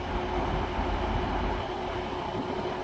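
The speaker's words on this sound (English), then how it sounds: "arriving in now is going to be another terminating service from Cleethorpes" A terminating passenger train from Cleethorpes pulls into Manchester Airport station on the Styal Line, producing a steady, even rolling rumble of wheels and carriages at moderate distance, with no talking.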